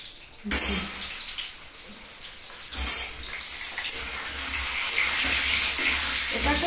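Small potatoes frying in a pan, a steady broadband sizzle that starts after a brief quiet moment and swells again near the three-second mark, then continues loud and close with no talking.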